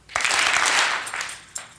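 A ceremony audience claps together in two bursts, a long loud round of applause followed by a shorter second one, with no talking.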